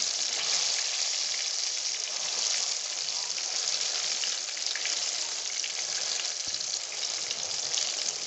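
Fish pakora pieces fry in hot oil with a dense, continuous bubbling hiss, close and even throughout with no talking.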